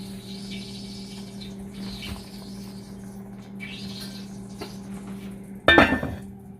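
A lid set onto a pot of pork belly adobo with string beans gives one sharp metallic clank and rattle near the end, after a stretch of quiet kitchen hum.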